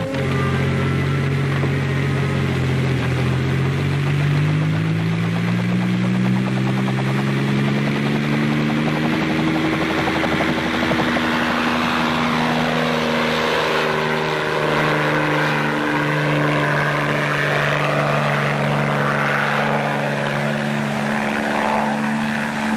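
Steady, loud engine and rotor drone of a helicopter in flight, with a deep continuous hum whose pitch slowly rises and shifts, heard alone with no voices.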